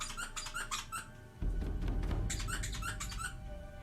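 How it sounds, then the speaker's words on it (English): A squeaky cow-shaped dog toy gives repeated high squeaks in quick bursts, close and fairly loud, with a pause in the middle and a low rumbling background underneath. "Otis squeaks, y'all."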